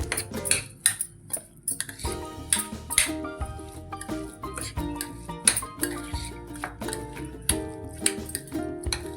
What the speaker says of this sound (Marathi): थोडासा ऑरेगॉनो घालायचा आहे छान असं मिक्स करून घेऊयाला